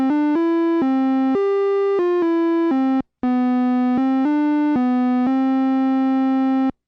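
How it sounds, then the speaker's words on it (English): An Omnichord OM-84 plays its second melody synth voice, a bright, buzzy sustained tone stepping through a simple tune of held notes, with a brief pause midway and no talking. "There's also a second melody synth that sounds like this."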